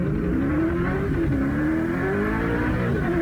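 Ford Mustang revving hard while burning its tires at a racing and drifting event: a loud, close engine drone with a rising and wavering pitch and a sustained tire squeal throughout.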